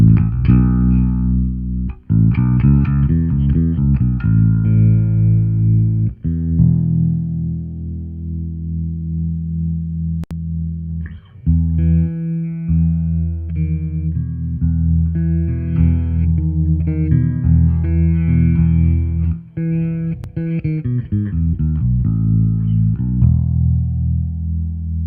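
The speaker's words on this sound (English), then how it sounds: "that's a proper Ampeg preamp going through a nice bass cab now" Bass guitar played through a proper Ampeg preamp into a bass cabinet with controls at noon, a steady, loud, thick low-end riff with effect coloring, alone without talk.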